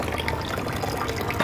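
Water rushes steadily through the blocked pipe of an instant geyser during a cleaning flush, a brief continuous gurgling flow heard up close.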